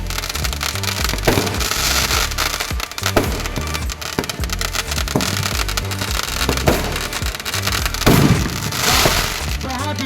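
Fireworks at the Dewa Sharif fair crack and burst one after another in a dense, loud, continuous barrage, with sharp pops over a rumbling wash and a crowd murmuring underneath.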